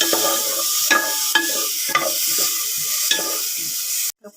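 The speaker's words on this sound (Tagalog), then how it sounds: "Isunod ang kamatis. Haluin na naman ng mabuti." Tomatoes stirred into garlic in a cooking pan, a steady sizzle broken by a regular series of spoon scrapes and knocks against the pan, close and clear, with no talking.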